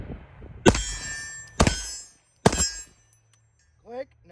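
PSA Dagger pistol dry-firing on a light primer strike with AAC 124 grain ammunition: three sharp, loud metallic clacks spaced about a second apart, followed by a brief voice near the end.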